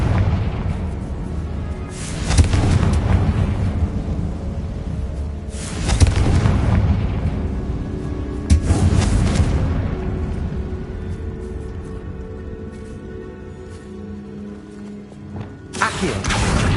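Confringo blasting spell going off in Hogwarts Legacy, a series of deep booming explosions in bursts roughly every few seconds over game rumble and mechanism noise.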